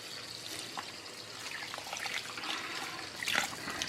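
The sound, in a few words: water rinsing silicone wax melt mould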